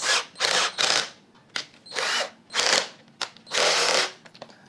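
A power drill boring holes into wood, running in repeated short whining bursts separated by brief pauses, close and loud with no talk.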